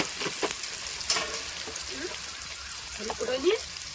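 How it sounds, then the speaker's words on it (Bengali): Potato pieces fry in hot oil with salt and turmeric, a soft, low-level sizzle with occasional stirring clatter. A voice speaks briefly over the cooking. "আলুটা একটু ফ্রাই করে নিচ্ছি নুন হলুদ দিয়ে, ভেজে একটু তুলে নিচ্ছি"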